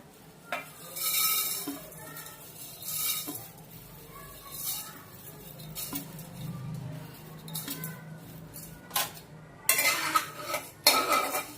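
Coriander seeds dry-roasting in a home kitchen pan, stirred with a metal spoon: soft crackle and scraping under sharp intermittent clinks of utensil against pan, louder clattering bursts near the end.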